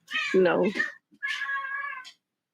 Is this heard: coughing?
no